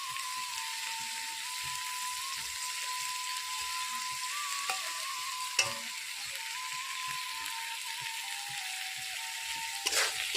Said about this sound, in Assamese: এয়া দিয়া জলকীয়া গুড়াখিনি ভাজি ল'ম